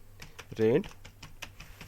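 Brief burst of keyboard typing while entering a rent payment narration in Tally ERP 9 accounting software, a few quick clicks close by with a short vocal sound partway through.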